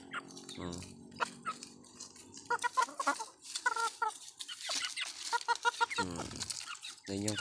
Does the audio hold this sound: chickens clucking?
yes